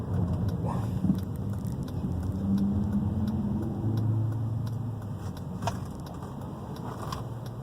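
A car racing past on a street, heard as a broad low rumble that swells over a few seconds and then eases off, moderately distant, with no voices.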